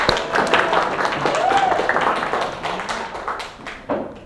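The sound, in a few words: audience clapping for a project presentation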